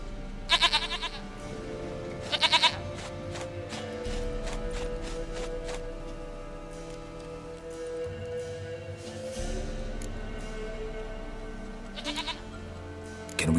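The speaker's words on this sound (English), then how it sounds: "Goat of mine, dearest, sweetest goat." Goat bleating in The Witcher 3 video game: a few short, loud bleats come in separate bursts over a steady, low in-game ambient background, with no talking.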